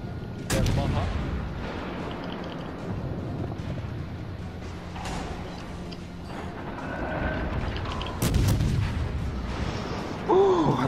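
Heavy naval guns fire at an enemy warship in a video game: a few deep booming blasts, one near the start and two close together toward the end, over a low rumbling background.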